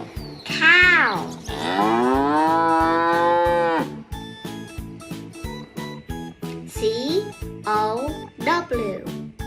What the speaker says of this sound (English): Cows eating grass.